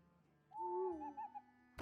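The Ironbeak Owl card in the Hearthstone video game sounds a synthesized owl hoot: one clear, tonal two-part call, mid-loud and close, with a short trailing tail and no talking.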